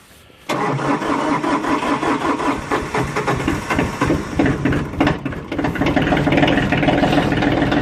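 A Kioti DK35/45 tractor diesel cranks and catches about half a second in, then runs loud and steady with a rough, knocking idle through to the end, on a cold day.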